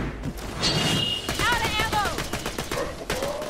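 Rapid gunfire rattles in Borderlands The Pre-Sequel, a dense run of sharp shots under the sounds of game effects and voices, with a warbling electronic tone weaving through the middle.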